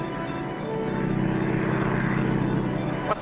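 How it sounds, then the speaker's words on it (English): A propeller airplane drones overhead in a 1944 colorized Western, a steady, loud engine hum with a propeller beat, holding level throughout and alone without talk. "What's that underneath the plane?"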